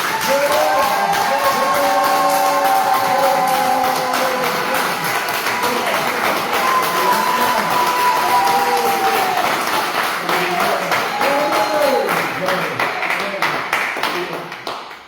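A church congregation in Gabon applauds at length, a full, sustained wash of clapping with voices calling out and shouting over it, fading out near the end.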